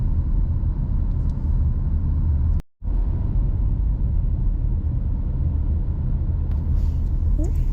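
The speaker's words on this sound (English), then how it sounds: "Driving inside the park property," Steady low road rumble of a car driving along the roads inside Fort Mountain State Park in the fall, continuous and fairly loud, with one brief dropout partway through.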